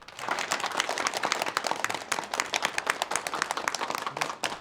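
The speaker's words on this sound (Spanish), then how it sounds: "¡Un aplauso!" Audience applause at the inauguration of an education program for Christians in the city of Panlong: dense, steady clapping from a crowd that keeps going at an even level throughout.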